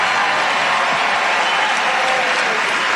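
A Pennsylvania political rally crowd bursts into loud, sustained applause, a dense steady wash of clapping and cheering that fills the whole stretch without a break.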